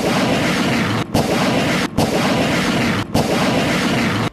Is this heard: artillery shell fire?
yes